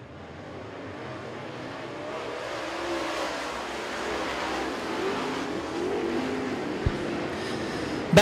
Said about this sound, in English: Back to green flag racing with the I-75 Dirt Late Models.